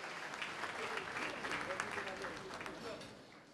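Audience applause at an anniversary evening honouring a publishing house and a performance troupe. The clapping is moderately dense and fairly distant, swelling and then easing over a few seconds, with voices mixed faintly underneath.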